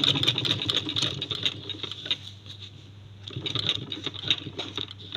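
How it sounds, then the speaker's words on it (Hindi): Sewing machine stitching stretched elastic onto a fabric balloon sleeve, a rapid mechanical patter in two runs with a short pause between, close and fairly loud, no talk. "इस तरह से मैंने फैब्रिक को भी आगे से सेट करके फोल्ड करते जाना है और इलास्टिक को मैंने खींच के सिलाई लगाते"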